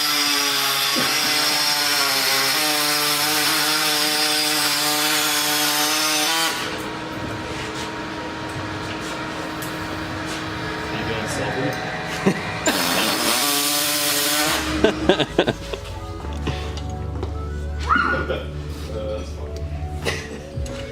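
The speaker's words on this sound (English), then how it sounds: "Let's see what the rev limit is real quick." A turbocharged four-door Honda Civic engine being prepped for the dyno revs hard and holds at high rpm with a strained, buzzing drone, then drops and blips again while people talk nearby.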